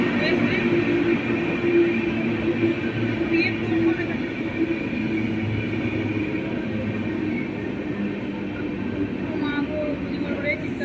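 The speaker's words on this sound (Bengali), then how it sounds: "দেখো এখানে আমাদের ট্রেন চলে এসছে ঢুকে গেছে" A train rumbles into a station steadily with a broad, continuous roar and faint metallic squeals, loud and close throughout.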